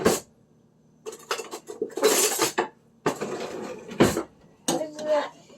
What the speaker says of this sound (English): I'm going to serve us up a couple of bowls so that the heat can melt your cheese for you.